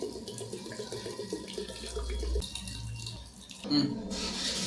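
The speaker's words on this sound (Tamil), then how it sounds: "சேமியா மூழ்கிற அளவு நம்ம தண்ணி சேர்த்துக்கணும்." Water runs and splashes steadily into a bowl of vermicelli for a few seconds, with a brief brighter gush near the end, close by and fairly loud.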